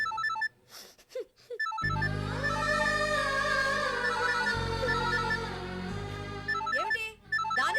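A mobile phone ringtone chimes briefly at the start and again near the end, largely buried under loud, swelling dramatic background music.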